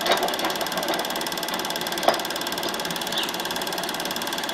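A Bell & Howell Super 8 sound projector with its lamp and sound switched on runs film through the gate on the reel, giving a steady close mechanical whirr and rapid ratcheting clatter with a single sharper click partway through.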